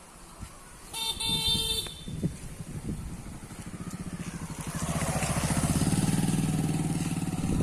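A motorbike on a road approaches with a short horn toot first, then a rhythmic engine putter that grows steadily louder and nearer until it fills the scene, with no one talking over it.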